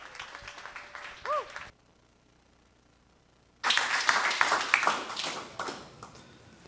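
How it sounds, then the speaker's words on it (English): Audience at a JavaScript tech talk applauding to welcome a speaker: after a muffled stretch and a near silent pause, loud, dense clapping bursts in abruptly and carries on for about three seconds. "Give him a big round of applause for Maxime."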